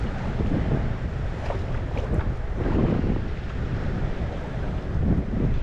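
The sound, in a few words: wind blowing at a fishing spot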